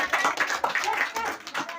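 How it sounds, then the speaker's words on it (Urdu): A class of schoolchildren in a classroom claps loudly together, a dense burst of many hands applauding steadily at close range. "زوردار تالیاں"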